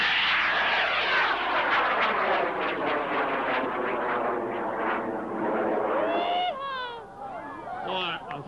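A model rocket roars off the pad at a 1995 launch event, a loud, sustained broadband rush that fades slightly as it climbs away. Crowd voices and shouting mix in near the end.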